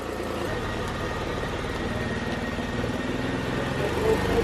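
A 2013 Jeep Wrangler, fresh from throttle body work, idles steadily and evenly at close range, its low engine drone holding a constant level the whole time.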